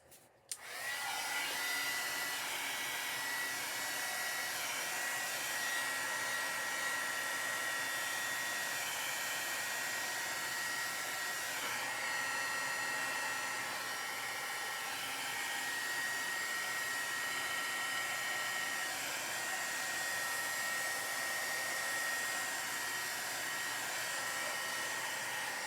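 A heat gun blows hot air onto a Dollar Tree Halloween sign, a continuous steady whooshing whine that starts abruptly and holds unchanged for about twenty-five seconds, close, with no talking.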